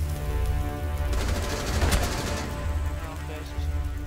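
Sustained automatic gunfire rattles in the Rainbow Six Siege video game, a dense, continuous burst of shots with a heavier crack in the middle, heard loud and close throughout.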